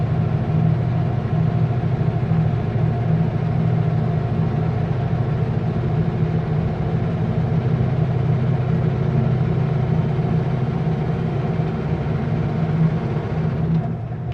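A Super B truck engine labours in 12th gear on a night highway, a steady loud low drone with a constant hum and no clear revving changes throughout.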